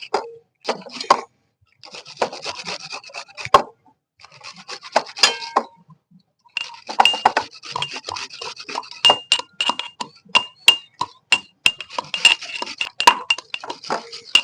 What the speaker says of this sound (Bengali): এবার আমি রসুন আর আদাটা ছেঁচে নেব